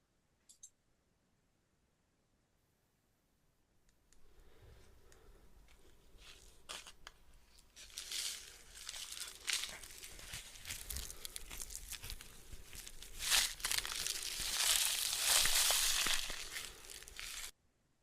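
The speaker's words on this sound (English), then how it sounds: "we have pop rocks." Pop Rocks candy crackling inside its package, a quiet, dense stream of sharp pops and fizzing clicks that builds after a silent start, close-miked for ASMR.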